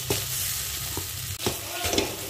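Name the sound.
pointed gourd stuffing being stirred in a pan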